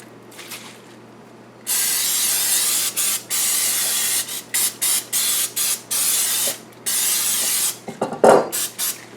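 Oil spraying from an aerosol can into a Bundt pan before flouring: a string of short hissing bursts of varied length, close and fairly loud, with brief gaps between them and a small clatter near the end.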